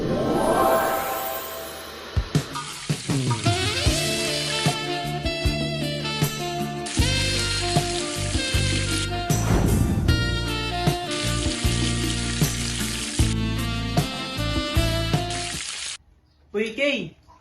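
An egg frying in a pan crackles and sizzles under a busy mix of music and effects, with several sudden breaks in level and a short quieter stretch near the end.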